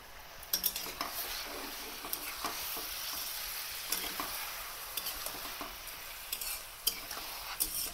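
Marinated chicken sizzles as it lands on fried onions for a dhaba-style chicken do pyaza, with steady frying hiss, stirring scrapes and occasional utensil clinks close up, no voices.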